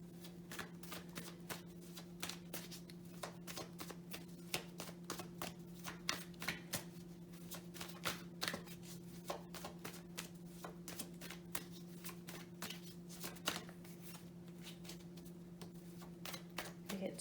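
Playing cards shuffled by hand in a rapid series of crisp riffles and flicks, close and fairly quiet over a steady low electrical hum.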